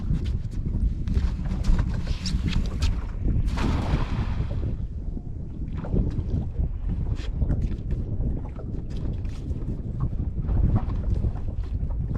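A motorboat cruises across open water on a summertime mullet fishing trip, its engine a continuous low rumble mixed with heavy wind buffeting on the microphone.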